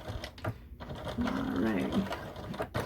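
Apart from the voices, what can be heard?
sewing machine stitching fabric for a fanny pack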